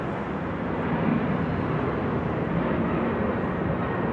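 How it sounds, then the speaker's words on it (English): A steady, broad engine roar from an airplane passing over a city street, continuous and moderately loud with no voices. "Now you can probably hear the airplane noise."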